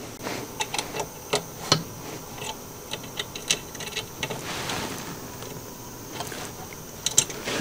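Dock pins being tightened on a Prusa XL 3D printer, a string of small, close metallic clicks and ticks at an irregular pace over quiet background.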